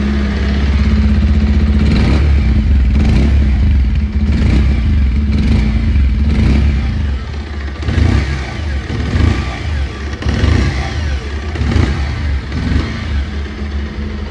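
Exhaust note of a 2025 Bajaj Pulsar 150 motorcycle, loud and close, a steady idle then repeated throttle blips and revs rising and falling over the rumble.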